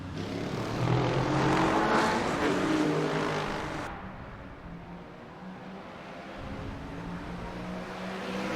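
Race cars roar away at the wet WEC Sebring start, a loud dense engine roar with spray hiss that swells then eases as the pack passes, leaving a lower fading drone.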